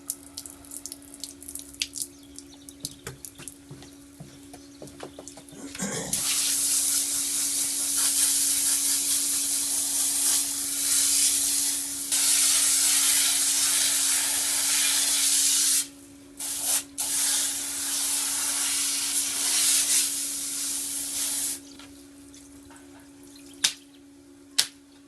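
Running water sprays hard and steadily over a range hood filter, a loud continuous hiss that breaks off briefly twice before resuming, with a faint background hum beneath.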